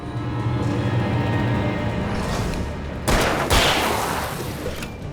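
Gunfire in the horror action game Alan Wake Remastered: a steady background drone and game ambience give way to a sudden loud burst of shots and booming impacts near the end, with no talk.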